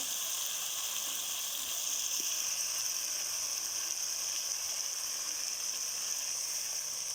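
Chicken jalfrezi sizzles steadily in a pan after water is added, a constant close hiss and crackle with no talk.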